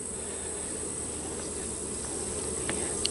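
A steady, dense drone of honey bees at a hive holds throughout, close and unbroken, with faint high chirps near the end.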